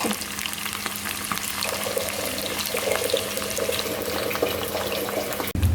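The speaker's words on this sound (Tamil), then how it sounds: "இப்போ எண்ணெயில் போட்டு பொரிக்கிறோம்" Steady, dense sizzling and crackling of chicken deep-frying in hot oil, continuous and close, with a brief clatter near the end.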